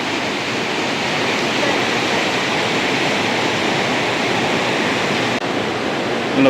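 Water rushes down at Thirumoorthy dam in a continuous, broad roar, close and powerful with little variation, with no speech over it.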